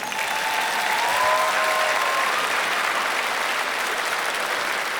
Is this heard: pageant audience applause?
yes